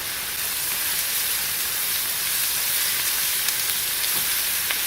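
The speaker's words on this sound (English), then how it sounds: "I also have my 2 cups of noodles already boiling, and I'm stirring them" A steady bubbling hiss fills the scene, like a pot of noodles at a rolling boil, with faint occasional scrapes of a utensil stirring.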